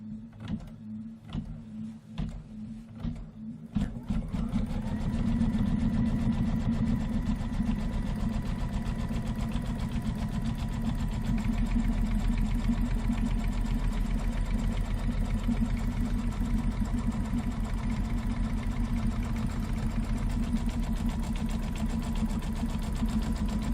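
A sewing machine stitches fabric down on a quilted pillow wall hanging, running in a steady, continuous mechanical hum after a few brief start-up bursts, close and fairly loud with no talking.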